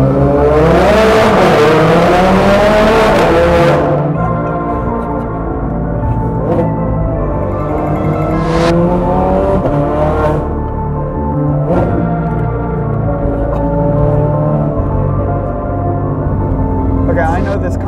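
A loud, raspy straight-piped Ferrari engine roars and revs hard, then settles into a droning growl with occasional sharp blips, heard close up.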